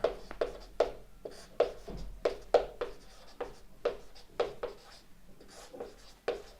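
Writing on a board during a physics lesson on centre-of-mass momentum, heard as a quick series of sharp strokes and taps in an irregular rhythm, close and fairly clear, with no talking.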